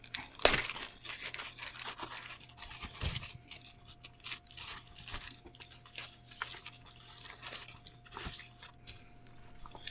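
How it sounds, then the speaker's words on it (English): A plastic seal on a comic book is torn and crinkled close up, with a sharp rip near the start followed by irregular crackling and scrunching. "This plastic is not ripping like I thought it would."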